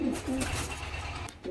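A pair of Madras pigeons give short, low throaty coos close by, a couple of quick calls within about a second and a half.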